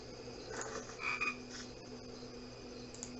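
Frog croaking in the hidden-object video game Dark Parables: a quiet run of rhythmic croaks over a low ambient music bed, with no talking.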